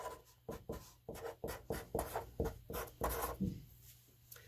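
Someone writes an algebra equation by hand in rhythmic pen or pencil strokes, with about a dozen short scratching scrapes in quick succession, close and quiet with no talking.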